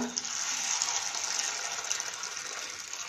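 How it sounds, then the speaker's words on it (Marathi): Steady stream of water poured onto puffed rice in a kitchen, a continuous close hiss and splash that holds evenly for about three seconds with no talk. "आता आपण चुरमुऱ्यात पाणी घालूया."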